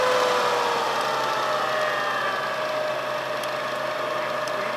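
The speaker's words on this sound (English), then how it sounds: "That's just the motor itself spinning a prop." Electric aircraft motor for a light sport aircraft idling while spinning a propeller, a steady whirring hum with faint tonal whine lines that drift slowly, continuous and close.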